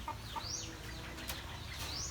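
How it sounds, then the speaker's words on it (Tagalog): Chickens cluck and chirp softly in short, scattered calls over a steady low background hum, with a faint high squeak now and then. "may manok pala dito guys"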